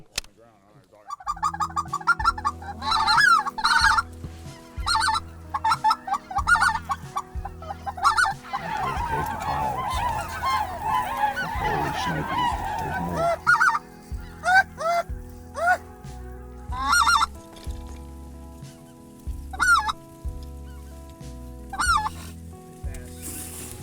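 Speckle-bellied geese calling during a hunt on a private island, with loud repeated honks and clucking calls in bursts and a stretch of rustling noise midway, alongside occasional voices.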